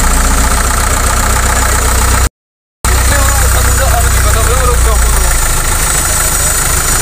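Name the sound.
Colt Diesel 120ps truck engine revving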